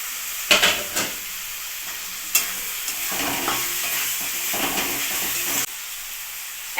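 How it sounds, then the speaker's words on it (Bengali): Tomatoes and ground masala paste with water being stirred in a hot pan for a chicken and yogurt dish, loud close sizzling and hissing with repeated scraping strokes and a few sharp clatters, no talking. "এক মিনিট একটু নাড়াচাড়া করে নেব আমি।"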